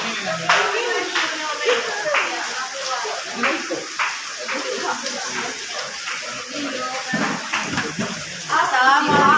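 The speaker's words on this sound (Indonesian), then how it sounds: "tepuk tangan buat kelompok 3" Classroom applause for a student group, a burst of scattered clapping from a small crowd with voices mixed in throughout.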